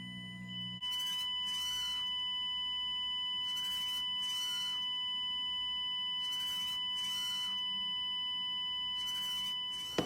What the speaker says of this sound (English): an alarm will go off